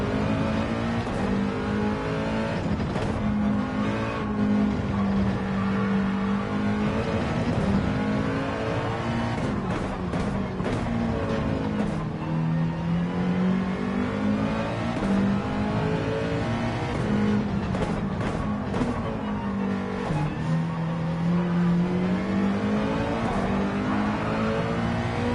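A race car engine revs and roars loudly and continuously on the Fuji circuit in a racing video game, with pitch rising and falling through gear changes as the car runs on hard tyres with a damaged front left wheel.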